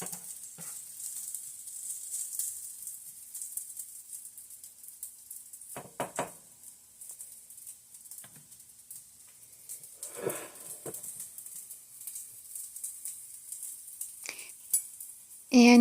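Food sizzles softly in a pan with a steady high hiss, punctuated by occasional scrapes and clinks of a utensil stirring it around.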